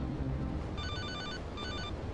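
A cell phone in GTA Liberty City Stories rings with two short electronic trill bursts over steady background noise.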